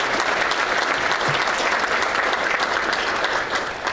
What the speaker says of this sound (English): can we give them a round of applause and thank you guys again for coming